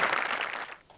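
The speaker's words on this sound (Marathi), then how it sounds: "जोरदार टाळ्या" A comedy-show audience gives a short burst of applause, dense clapping that tapers off within a second.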